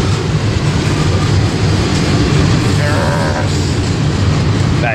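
Norfolk Southern freight train rolls past close by, a loud steady rumble of wheels and cars on the rails with a faint squeal of wheels, continuous throughout.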